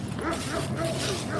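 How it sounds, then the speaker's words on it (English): A Bernese mountain dog barks and yips in a short, close burst outdoors on a fall day in Michigan, with people's voices mixed in. "I believe that was a Bernese mountain dog"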